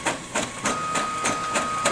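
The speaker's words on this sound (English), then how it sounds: "So right now what we're doing, we're copying this sheet of paper." A Brother MFC-J825DW inkjet printer copies a sheet of paper, its print head shuttling back and forth in a steady rhythmic series of mechanical whirs and clicks with a faint steady tone underneath, close and alone.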